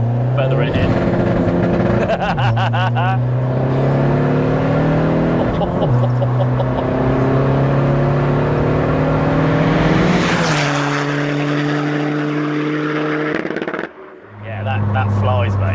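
Hybrid-turbo 400bhp MK1 Skoda Fabia VRS accelerating hard through the gears, a loud, close engine note climbing in pitch with shift breaks and a brief lift near the end, with people talking over it.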